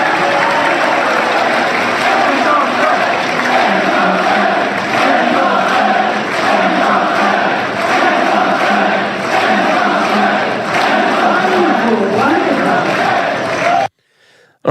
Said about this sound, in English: the entire crowd that was cheering and clapping for Ron Paul